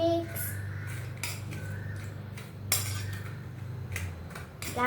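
Food ingredients being mixed with metal utensils, faint clinks and scrapes against a dish repeating irregularly over a low steady hum.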